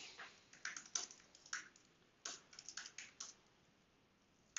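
Someone types a command and then a password on a computer keyboard: quick bursts of close, crisp key clicks broken by short pauses, quiet and without talk.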